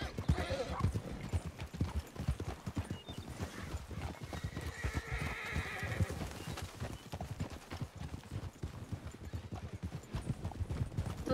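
Horse hooves clip-clopping in a brisk steady rhythm in the Red Dead Redemption video game, with a horse neighing midway through, close and fairly quiet.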